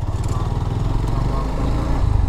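A GPX Demon motorcycle engine idles steadily close by, a low chugging rumble with a rapid even pulse that holds throughout.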